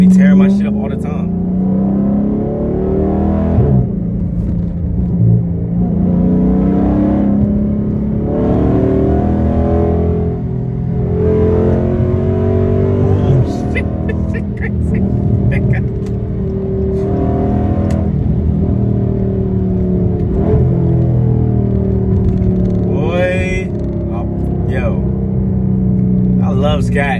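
A Dodge Charger Scat Pack rumbles steadily from inside the cabin while driving, with people talking over the engine throughout.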